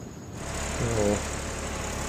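A tractor engine runs at a steady idle, a constant low rumble with a brief tonal whine partway through.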